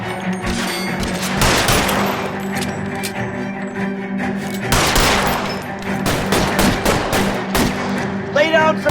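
Dense, loud gunfire in the crime video game L.A. Noire, with overlapping shots and rapid bursts forming a continuous fusillade throughout, brief voice commands heard within the barrage.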